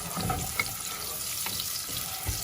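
Steady crackling sizzle of onions frying in hot palm oil for Nigerian beans porridge, close and continuous, with faint clinks of stirring and no voices.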